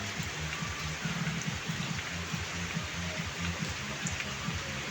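Steady rain falls in a rural Bicol province setting during typhoon-season weather, a constant soft patter and wash of drops on surfaces, even and moderately near with no talking.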